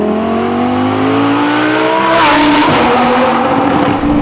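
A Lamborghini Huracan STO with a Novitec exhaust and flap system, revving loud and near with a rising engine note that breaks into a rasping burst and tire noise.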